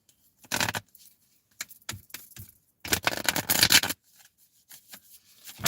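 A deck of cards is shuffled by hand up close, making crisp riffling bursts of varying length separated by brief silences, the longest burst near the middle, with no talking.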